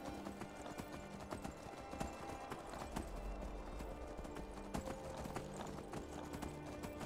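Horse hooves clip-clop steadily at a riding pace in Skyrim, a continuous rhythmic patter over game ambience with no talking.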